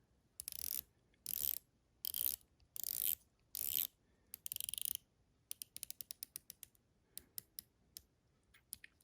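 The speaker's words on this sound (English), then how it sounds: "Let's take a look at the bezel action." Farr + Swit Wayfinder watch bezel being turned: close, crisp bursts of dense ratcheting clicks, then a quicker run of separate, distinct clicks, with no talking.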